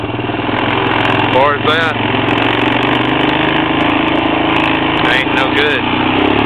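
Honda Recon 250 ATV engine droning steadily while riding through snow, a loud continuous mid-pitched motor hum that holds level throughout, with someone talking over it.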